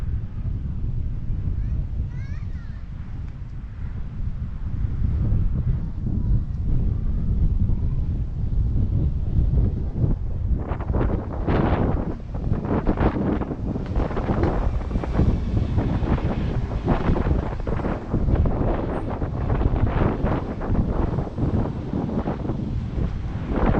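Wind gusts buffet the microphone along the seafront at Palmanova, Mallorca, on a cool February day, a loud, steady roar that thickens into harder, choppier blasts partway through.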